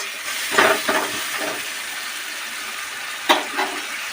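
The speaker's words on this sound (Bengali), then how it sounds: "গরম জল অ্যাড করছি, দিয়ে আরও ভালো করে কষাবো।" Spices being sautéed in a pan with a splash of hot water for jackfruit and prawn curry give off a steady, close sizzling hiss, with a few louder spitting bursts near the start and again toward the end.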